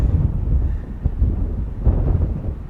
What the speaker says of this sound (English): we got quite a bit of wind today. I don't know if the microphone's picking up on it